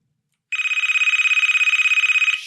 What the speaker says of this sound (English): the phone rings and I jump out of my skin